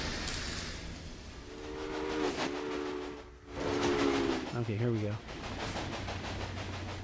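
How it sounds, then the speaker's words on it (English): A train rolls along the track in the Railway Empire railroad game, a steady rumbling run with whistle-like tonal calls partway through, heard under a man's speech. "There's our first train that I set up a second ago."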